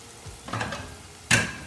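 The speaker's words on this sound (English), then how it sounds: "now when I pan fry them and in the butter" Vegetables pan-frying in butter give a close, soft sizzle with a few crackling bursts, the last one sharper and louder. Short and without talk.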